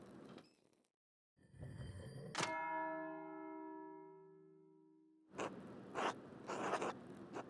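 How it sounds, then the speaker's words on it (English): An abbey bell rings for Sext in the video game Pentiment, a single deep, resonant bell strike that hums and fades over several seconds, with shuffling and clunking sounds before and after. "That's the bell of Sext."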